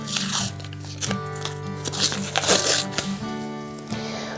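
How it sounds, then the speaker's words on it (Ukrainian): Paper masking tape is ripped and pressed onto cardboard tubes, giving close crackling tears and sticky crinkles in short bursts over several seconds. "Зараз я їх з'єднаю між собою за допомогою паперового скотчу."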